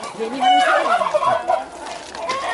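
A flock of geese near a reservoir parking area on a Sunday morning give loud, close, harsh honking calls in an overlapping series, with no voices over them.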